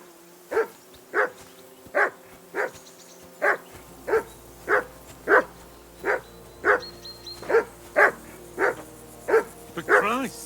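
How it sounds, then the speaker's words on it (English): A dog in the video game Kingdom Come: Deliverance 2 barks about a dozen times in a steady, evenly spaced rhythm, each bark loud and close over a low background hum. "Call off that damn dog!"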